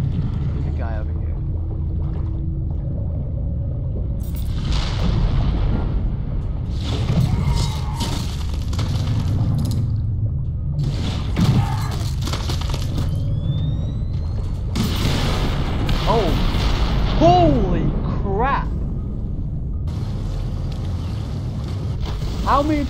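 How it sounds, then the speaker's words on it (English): A chain explosion in the underwater video game Depth: a continuous rumbling boom bed with low roar and whooshing bursts under steady game noise, sustained throughout with some louder peaks. "How many people died in that explosion?"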